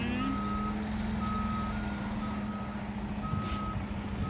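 A concrete conveyor truck backs in at a building site. Its backup alarm gives a slow run of evenly spaced beeps over the low rumble of the engine, and a short hiss comes near the end.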